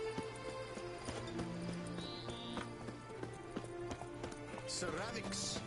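Roach the horse gallops in the Witcher 3 video game, its hooves giving a steady clip-clop beat under game music and ambience, with voices speaking at times.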